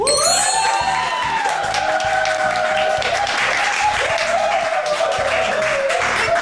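Audience applause greets guest drummer Lee Jung-hoon as he is introduced on a talk show: steady, dense clapping that fills the whole stretch, with a tonal, music-like line running underneath.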